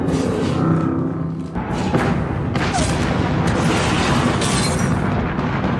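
An airstrike in the video game Apex Legends sets off loud, sustained booming explosions that rumble continuously, close and dense, over a game soundtrack.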